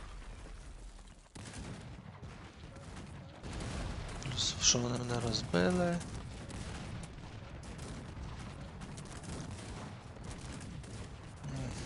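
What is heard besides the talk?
cannon and howitzer fire in video game Cossacks 3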